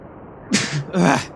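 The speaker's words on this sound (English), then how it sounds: "Here comes the sneeze." A cartoonish sneeze from a character in the video game Shipwrecked 64, in two bursts, a sharp intake then a loud breathy release, close and clear with no talking.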